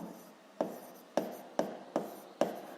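Equations are written by hand during a physics lesson on conservation of momentum: five distinct scratchy strokes at a steady pace, close and quiet, with no speech.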